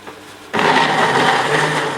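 A kitchen blender switches on after a brief quiet moment and whirs loudly and steadily to the end, with no talking.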